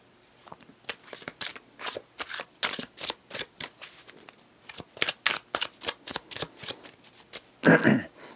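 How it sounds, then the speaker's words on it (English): Tarot cards from a White Sage deck are shuffled by hand in steady, repeated riffling bursts, close and fairly loud, ending in a denser flurry of card noise near the end. "I'm going to start, Gemini, with getting you your tarot cards from the White Sage Tarot by Teresa Hutch."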